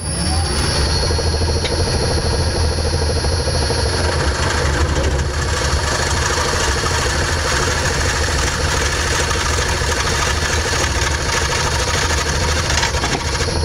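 A wood lathe spins a natural edge vase while a very sharp cutter takes light cuts, producing a loud, continuous motor drone and rumbling hum that stays steady throughout, close by and with no talking.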